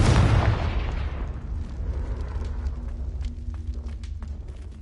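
A Confringo fire spell bursts in Hogwarts Legacy with one loud, close explosion at the start, then a crackling, hissing tail that fades slowly over several seconds, with no voices.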